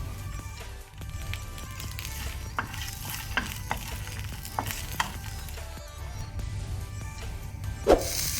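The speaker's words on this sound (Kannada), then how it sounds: "ಈಗ ಇದನ್ನು ಒಳ್ಳೆ ರೀತಿ ಕಲರ್ ಚೇಂಜ್ ಆಗೋ ತನಕ ಸ್ವಲ್ಪ ಫ್ರೈ ಮಾಡ್ಕೊಳ್ಳುವ." Garlic and green chillies frying in a pan for mutton techa make a steady, close sizzle throughout, with a few sharp scrapes and taps of a stirring spoon and a louder clatter near the end.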